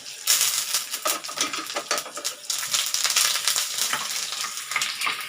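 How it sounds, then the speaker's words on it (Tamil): Garlic, dried red chilies, fenugreek seeds and curry leaves crackle and sizzle in hot oil for mango pachadi, a dense continuous frying hiss with occasional spoon stirs and clinks against the pan, no talking. "நல்லா ஃப்ரை ஆகட்டங்க"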